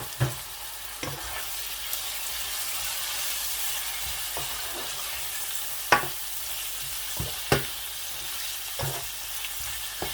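Chicken pieces with ginger paste, coriander and cumin sizzle steadily in a pan, with periodic scraping strokes of a spoon stirring through the frying, close and moderately loud.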